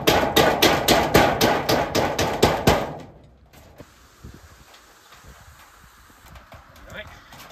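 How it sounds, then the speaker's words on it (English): Nails are hammered through sheet metal roofing into wood in a rapid run of about a dozen sharp, ringing blows over three seconds, followed by quiet outdoor ambience with faint shuffling. "it was easier to put a few pilot holes into the metal before hammering it into the wood"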